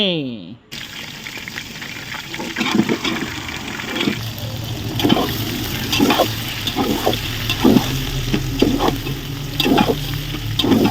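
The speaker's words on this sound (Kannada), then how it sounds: "ಆ ಒಗ್ಗರಣೆ ಕೊಡುವ ಆ ಸೌಂಡ ಕೇಳ್ಕೊಂಡು ಬನ್ನಿ" Chopped onion, curry leaves and green chilli are tempered in hot oil, sizzling and crackling steadily close by, while a spoon scrapes and stirs in repeated short bursts and a low hum sits underneath.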